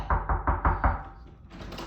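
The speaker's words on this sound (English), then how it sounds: "could you knock on the door?" Five quick, firm knocks on a door sound in a steady rhythm at close range, followed by a brief pause and fainter shuffling noises.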